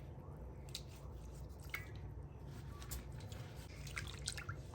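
Raw cassava slices drop into a bowl of cold water, making soft drips, splashes and wet squishing sounds close by over a low steady background hum.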